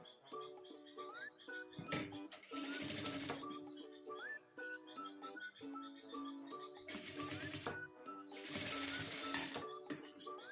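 Sewing machine stitching a blouse sleeve, faint and close, running in several short bursts of rapid whirring between pauses, with light clicks and fabric handling between runs.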